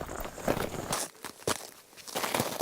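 Footsteps crunch on icy, melting snow at the edge of a sled dog race trail, a few uneven nearby crunching steps over a short stretch.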